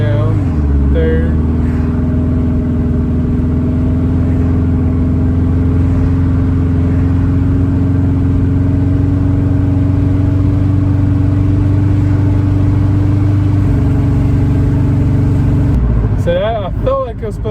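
A 1990 JDM Subaru Legacy engine drones steadily and loudly under load while pulling through the gears, with a shift in pitch near the end before it cuts out and dies.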